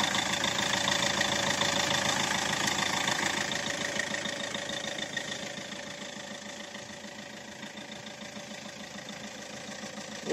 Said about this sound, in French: On laisse le moteur tourner,